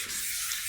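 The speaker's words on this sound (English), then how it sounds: "applying more of that tongue oil blend, and I'm doing it with a piece of 800 grit paper" Fine 800-grit paper wet-sanding a Fender-style guitar body with a tongue oil blend, giving a steady soft hissing rub heard close up and alone.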